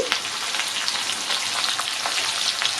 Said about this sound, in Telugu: ఈ పోపు దినుసులు అలాగే ఉల్లిపాయ ముక్కలు ఈ వెల్లుల్లిపాయలు అన్నీ కూడా చక్కగా బాగా వేగాలండి